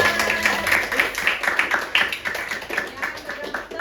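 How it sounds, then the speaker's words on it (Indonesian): A classroom of students applauds at the end of a lesson segment, a short burst of mixed claps from many hands at moderate distance, tapering slightly while some voices chatter underneath. "Baik, tepuk tangan semuanya."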